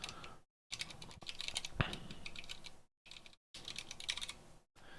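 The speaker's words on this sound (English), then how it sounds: "That's a lot of typing" Rapid clicking of keys on a computer keyboard, close and fairly quiet, in quick bursts broken by short pauses.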